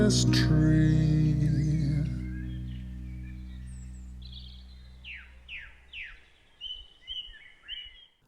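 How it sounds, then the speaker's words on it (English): Birdsong closes out a folk song: after the music fades, a series of clear, bright chirps and whistled calls rises alone, spaced irregularly and fairly near. "Another song that ends in birdsong."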